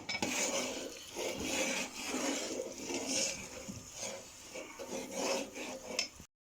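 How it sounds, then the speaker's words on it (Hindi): Continuous scraping and clinking of a utensil stirring pakora batter in a bowl, steady and close, with brief pauses before it stops abruptly. "इसको अच्छी तरह हिलाएंगे।"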